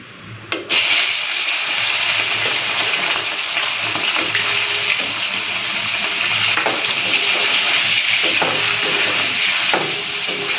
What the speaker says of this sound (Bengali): এখন এই মাছগুলো ভেজে নেব।